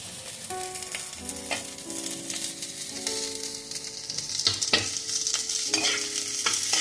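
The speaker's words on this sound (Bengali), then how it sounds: "এবারে আমি এই রসুন আর আদা কুচি লঙ্কা কুচিটা আমি দিয়ে দিলাম।" Chopped garlic, ginger and green chilli frying with onions in a pan: a steady sizzle with stirring scrapes and a few sharper utensil knocks, close and fairly loud, no voices.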